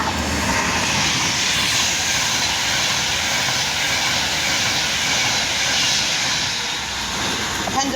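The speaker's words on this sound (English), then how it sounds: "we've got an Avanti Pendolino" Avanti Pendolino train coming down platform 1 at a station, a loud continuous broadband roar holding steady throughout.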